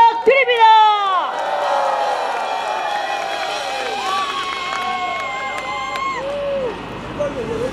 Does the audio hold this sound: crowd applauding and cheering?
yes